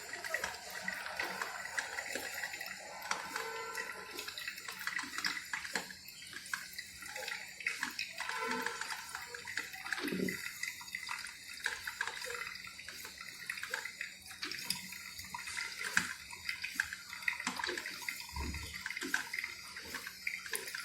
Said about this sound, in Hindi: बहुत फास्ट पानी बॉईल होके फिर यहाँ से इसके अंदर आता है।